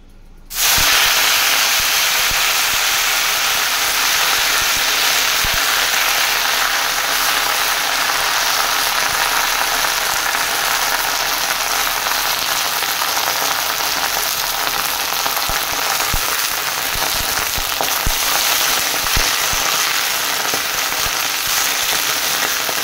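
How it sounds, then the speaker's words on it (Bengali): Jute leaves go into a pan of fried dried chillies and sizzle loudly, a sudden hissing burst that settles into a continuous dense crackle close by, with no speech. "তো শুকনো লঙ্কাগুলো ভেজে ফেলেছি, তো এর মধ্যে এবার পাট পাতাগুলো দিয়ে দেব।"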